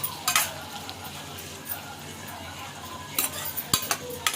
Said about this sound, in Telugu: బాగా ఫ్రై చేసుకోవాలి సిమ్లో పెట్టి చేసుకోవాలండి